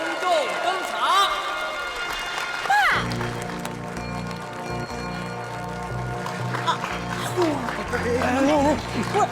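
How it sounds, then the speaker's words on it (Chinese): Wedding crowd applauding as the bride and her father enter, steady clapping and cheering over music, with voices talking on top throughout. "女士们、先生们，让我们以热烈的掌声欢迎新娘和她的父亲隆重登场"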